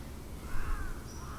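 A single harsh crow-like caw rings out over a low ambient rumble in Final Fantasy XIV: Shadowbringers, moderately loud and brief.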